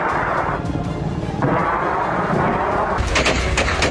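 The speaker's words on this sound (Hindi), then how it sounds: "ताबड़तोड़ रॉकेट धमाके" Explosions and blasts in Afghan war footage, rocket barrages, a loud dense rumbling roar with sharp bursts stacking up near the end, continuous and heavy without pause.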